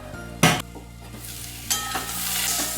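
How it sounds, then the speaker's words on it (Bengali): Fried bitter gourd pieces being stirred and sautéed in a pan with a soft steady sizzle, broken by two sharp metallic scrapes of the spatula against the pan, close and without voices. "কষাতে উচ্ছে ভাজাগুলো দিয়ে দিলাম দিয়ে আবার একটু ভালো করে কষিয়ে নিচ্ছি"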